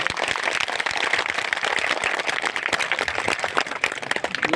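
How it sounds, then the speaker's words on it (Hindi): Audience clapping at a Shiv Panth satsang, a religious gathering in a Gujarat village: dense, continuous applause from many hands throughout, loud and close, with no clear speech. "कौन ताली बजाई रहे हो"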